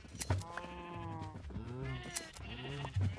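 Sheep in the video game Minecraft bleat in several short, wavering calls one after another. The calls are fairly close and sit over light game background noise, with no talking over them.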